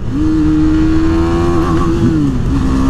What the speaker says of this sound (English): Let's go up in the revs here.